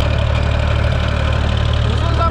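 A Ford tractor's engine runs close by at a steady, loud idle, its low throbbing knock unbroken throughout.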